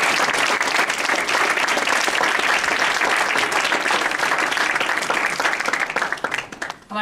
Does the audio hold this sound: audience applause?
yes